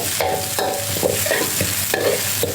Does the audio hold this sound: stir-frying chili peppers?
yes